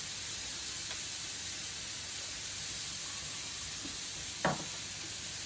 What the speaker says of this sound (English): you can hear that the sizzle's gone a little bit to a higher point